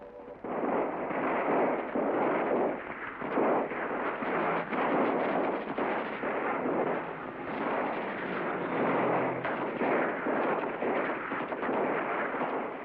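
Soldiers' rifles fire on a crowd from high ground in a dense, continuous barrage of rumbling shots, heavy and muffled, with no voices over it.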